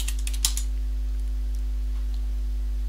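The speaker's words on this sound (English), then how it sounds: "Now I need to type in the password." A quick burst of keystrokes on a computer keyboard as a password is entered for an SSH login on CentOS or Red Hat Linux, then only a low steady hum for the rest.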